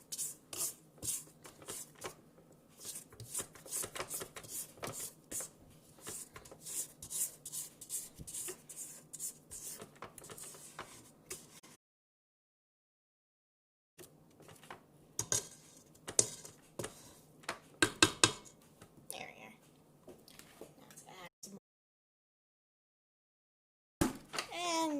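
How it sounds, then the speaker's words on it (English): Cookie dough being scraped and stirred in a bowl while baking smile cookies, with dense clicking and scraping strokes in bursts, broken by two silent gaps and a short final burst. "Scrape down the sides, make sure every little bit of dry stuff gets in."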